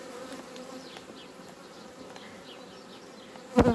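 Honeybees buzz in a dense, steady drone around a queen-rearing hive, close and continuous, ending with a brief louder burst.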